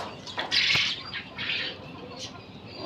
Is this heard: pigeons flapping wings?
yes